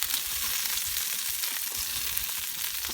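Bacon-wrapped asparagus bundles sizzle on a grill, a steady bright crackle and hiss of fat cooking, continuous and close with no talking.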